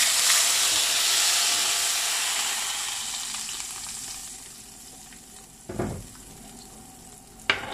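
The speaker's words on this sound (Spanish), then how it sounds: "Esta parte la vamos a vaciar ya a la cazuela que tenemos calentando con aceite." Blended green mole sauce pours into a clay pot of hot oil and sizzles loudly, the hiss fading gradually before a few close knocks of stirring near the end.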